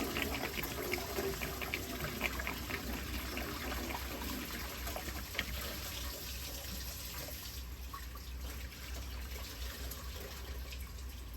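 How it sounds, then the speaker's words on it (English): Fluid from a 1975 Lincoln Continental drains into a drain pan while the engine is being pulled, a faint steady trickle and splash of liquid with a soft background hum, and no one talks. "Most of it went in the drain pan."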